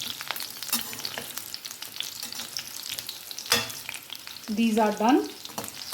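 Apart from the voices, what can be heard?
pointed gourd frying in mustard oil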